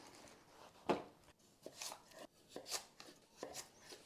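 Celery stalks for chicken noodle soup are chopped on a board, with about six separate knife strokes landing irregularly, close and crisp, with short quiet gaps between them.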